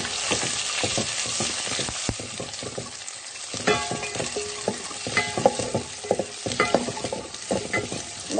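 Onions fry with curry leaves in hot oil for a sardine curry, a busy crackling sizzle close up, broken by repeated scraping and clattering stirs of a utensil in the pan.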